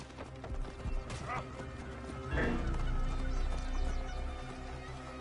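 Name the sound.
horse galloping hooves in Assassin's Creed Origins video game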